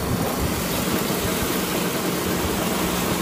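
A self-driving rice harvester working a paddy field in Kagawa, Japan: a steady, loud engine drone with a constant mechanical hum and no break, heard close up.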